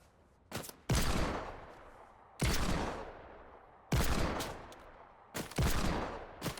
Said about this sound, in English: You shooting at me? Who's shooting at me?